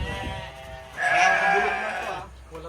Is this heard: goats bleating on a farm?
yes